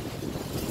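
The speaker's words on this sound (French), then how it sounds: "il y a du vent, je sais pas si tu vas m'entendre" Wind buffets a microphone outdoors during a casual potted-plant tour, a steady low rumble with gusty swells filling the short moment, no voice over it.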